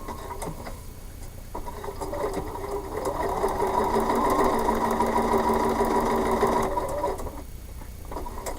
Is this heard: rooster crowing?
no